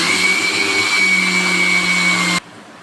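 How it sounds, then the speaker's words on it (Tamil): A kitchen mixer grinder runs steadily while grinding idli and dosa batter, its loud continuous motor whine with a high-pitched tone carrying on without a break until it cuts off abruptly near the end. "ஸோ கிரைண்டர் ரிப்பேர் ஆனாலும் இது மாதிரி மிக்சியில் போட்டு அரைச்சிக்கிறோம்."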